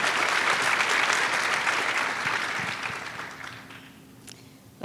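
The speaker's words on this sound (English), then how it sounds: "Give me a round of applause if you've learned a thing or two this morning" An audience at an International Women's Day event bursts into loud, dense applause that gradually thins and fades out over several seconds.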